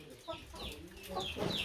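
Chickens clucking in a dry coop on a rural farm: several close, irregular clucks and short calls that overlap in a steady, busy rhythm.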